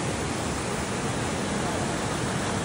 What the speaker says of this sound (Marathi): 165 मीटर उंचीवर हा धबधबा वाहतो आहे